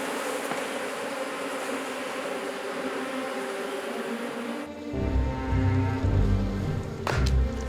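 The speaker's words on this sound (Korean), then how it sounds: "벌들이 아무리 발버둥쳐도 속수무책입니다." Bees buzz in a dense, steady drone around a honeycomb full of larvae and honey being raided by an Asiatic black bear, with thumps and rustling from the comb being torn apart in the second half.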